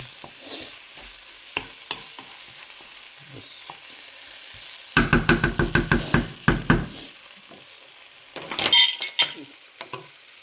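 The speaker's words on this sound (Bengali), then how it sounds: "মশলাতে দিয়ে দিলাম, একটু আলুগুলো কষুক" Potatoes frying with spices sizzle quietly at first, then a burst of rapid rhythmic scraping and stirring in the pan, followed by more clattering strokes near the end.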